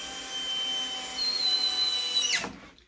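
Power drill driving screws into a display case during assembly, a steady high-pitched whirring run that builds slightly louder midway, then winds down and cuts off near the end, close and alone.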